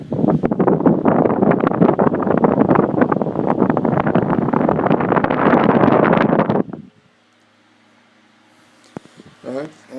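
A Dominion 10-inch desk fan, model 2011-A, runs stationary with a steady, loud rushing whoosh of air for about six and a half seconds before cutting off abruptly, followed by near silence and a few faint voiced sounds.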